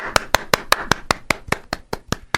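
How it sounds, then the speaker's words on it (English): A single person claps their hands about a dozen times in a steady, even rhythm, each clap crisp and close with nothing else heard. "That was real applause that I just did. Golf clap."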